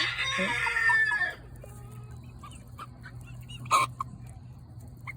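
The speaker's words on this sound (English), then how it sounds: "Here's a young rooster trying to crow." A young rooster attempts a crow among clucking hens near a flock fed pinto beans; a loud burst of crowing and clucking opens, followed by quieter scattered clucks and one brief sharp call over steady background hum.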